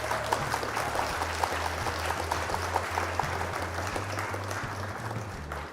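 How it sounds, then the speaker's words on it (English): A round of applause over gameplay during a stream, a steady patter of clapping running throughout alongside a low repeating game tone and soft clicks. "Round of applause."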